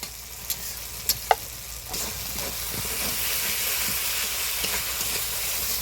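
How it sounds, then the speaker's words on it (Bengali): Ground turmeric, chili flakes and salt fry in an oil-filled pan with a steady low sizzle and hiss, broken by a few sharp clicks and scrapes of stirring near the start. "হলুদ গুঁড়োটা দিয়ে ভালো করে নাড়িয়ে নিব"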